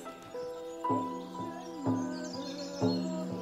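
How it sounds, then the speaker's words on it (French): Birds singing in the Irish countryside, several clear chirps and short whistled phrases repeating every second or so, moderately near against a soft background. "Écoute les oiseaux."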